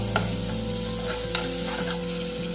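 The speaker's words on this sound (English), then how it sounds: "I'm adding some oil onto a hot pan. 1 whole crushed garlic" A whole crushed garlic bulb hits hot oil in a pan, sizzling loudly and steadily up close, with a couple of sharp pops and a low steady hum beneath.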